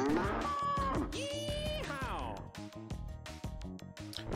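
A cartoonish cow moos in Earthworm Jim HD with long wavering, pitch-bending lowing calls over busy game music and sound effects, fairly loud and clear.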